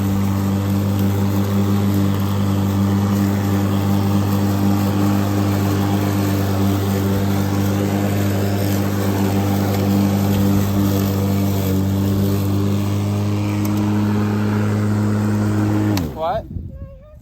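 A Makita 21-inch 36-volt battery lawn mower runs with a steady, loud motor hum for about sixteen seconds, then cuts off abruptly near the end.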